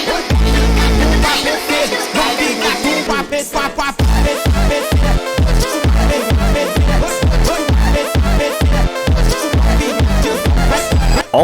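A phonk track built from Incredibox Sprunki sounds plays loud and dense, with a sustained intro before a heavy, steady bass-driven beat kicks in and pounds on to the end.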